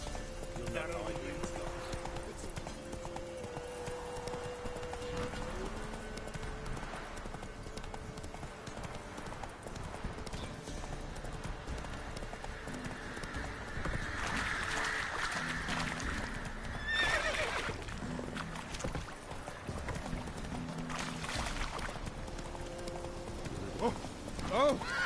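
Roach, Geralt's horse in The Witcher 3, trots with steady hoof clip-clops and an occasional whinny. The sounds sit under game music and ambience, and voices talk over them.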